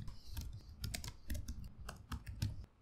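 Fast typing on a computer keyboard, a quiet, close, irregular patter of key clicks with no voices.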